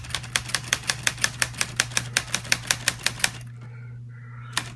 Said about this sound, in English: This is Grandma's old typewriter.